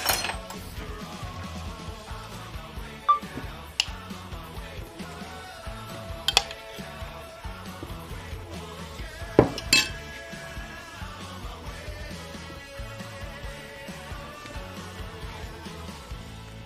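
A utensil stirs sauce in a bowl, giving quiet, irregular clinks and scrapes with a few sharper knocks against the dish.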